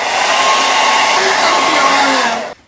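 A hair dryer blows steadily and loudly at close range to dry patio outdoor paint on a painted gnome door hanger, a constant whooshing roar that cuts off sharply at the end.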